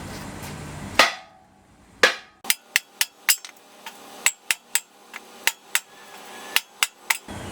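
Sledgehammer blows strike metal while an engine is being forced into place during a 302/5.0 V8 swap in a 280Z, about a dozen sharp ringing clangs in an uneven, close series with no talking.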